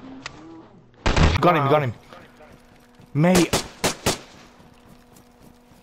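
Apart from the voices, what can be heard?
gunshots in the video game DayZ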